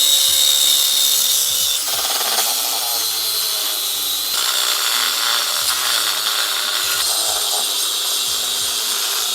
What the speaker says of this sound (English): So grinder, accessory bracket, let's get to it.